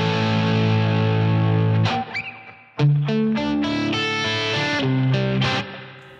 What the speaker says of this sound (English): Spring reverb, I guess.